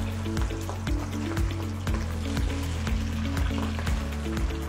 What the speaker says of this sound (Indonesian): Okey, udang kita kena goreng dua kali.